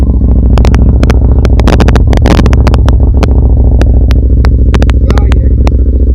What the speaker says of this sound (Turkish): sesi bu arkadaşlar.